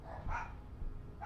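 Puppies give a couple of short, faint yips and barks in a quiet room, a brief burst near the start and another toward the end.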